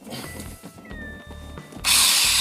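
Close by, a power drill runs in pulsing bursts with a rhythmic low grinding and a thin whine above it. It then shifts into a loud, steady high-pitched whir during work on a home laundry room.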